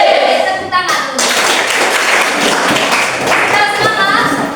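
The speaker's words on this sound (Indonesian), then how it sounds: "Tepuk tangan dulu" Students in a grade 8 Catholic religion class clap their hands together in a brisk burst of close, lively clapping that runs on for several seconds, with children's voices in the room.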